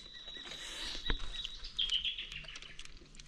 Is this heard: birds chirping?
yes